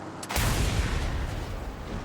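Explosions in the Mad Max video game at night: a sudden heavy boom bursts in after a brief quiet moment, then gives way to a sustained loud roaring rumble with crackling debris that fills the rest of the stretch.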